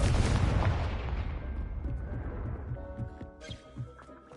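A fiery Confringo spell explosion erupts in the Hogwarts Legacy video game, a loud, dense crashing burst that decays over a few seconds into crackling debris and lingering game ambience.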